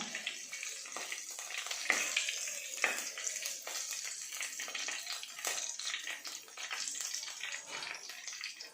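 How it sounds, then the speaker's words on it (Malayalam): Mustard seeds start popping in hot oil for a Kottayam-style fish curry, a quiet close crackle with scattered sharp pops over a soft steady sizzle. "കടുക് ഒന്ന് പൊട്ടി തുടങ്ങിയിട്ടുണ്ട്"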